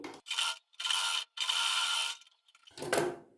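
A sewing machine stitches a strip for a plain blouse, whirring in four short runs separated by brief pauses, close and moderately quiet.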